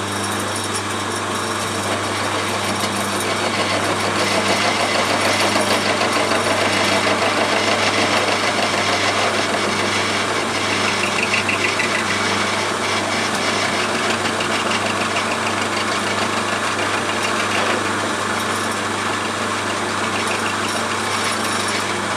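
Milling machine running an indexable 50 mm face shell mill at 380 RPM, taking a very shallow cut; a steady, continuous machine drone and cutting noise held at constant level throughout, with no talking.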